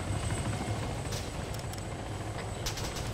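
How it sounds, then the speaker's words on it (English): A medevac helicopter's steady rotor thump and engine whine keep going throughout, close and loud, with a few faint higher clicks or rattles mixed in. "Getting in the helicopter now"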